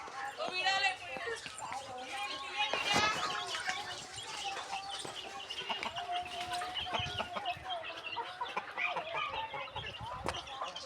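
Chickens cluck and squawk at a distance while a person talks over them, the bird calls clearest near the start.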